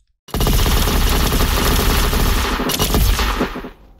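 Barrage of Light, an attack of the Light fruit in Roblox Blox Fruits, bursts in suddenly as a loud, dense rattle of rapid-fire blasts that holds for about three seconds and then trails off.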